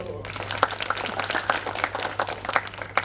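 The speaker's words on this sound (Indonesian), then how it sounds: "Tepuk tangan dulu." Audience applause after a monologue theatre performance, a moderate, continuous patter of clapping with a few sharper claps standing out, and a voice talking over it.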